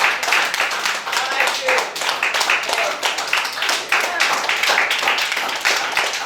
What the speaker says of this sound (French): Donne des acclamations à Jésus.